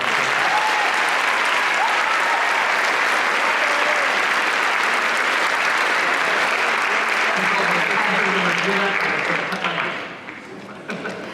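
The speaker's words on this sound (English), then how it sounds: "I'd like to give a big round of applause to our theater manager, Harley Alvarado." Sustained audience applause at a festival concert in Fresno, a dense, even wash of many hands clapping for about ten seconds before thinning out and fading near the end.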